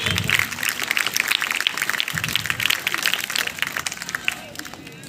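Children and audience clap for prize winners at a school Independence Day programme, a busy, uneven patter of many hands mixed with crowd murmur, gradually easing toward the end.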